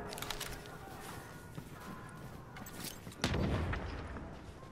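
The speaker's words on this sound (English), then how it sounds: "I'm tossing grenades." Grenades explode in the video game The Division amid distant gunfire, with one heavy, rumbling boom standing out midway through the clip.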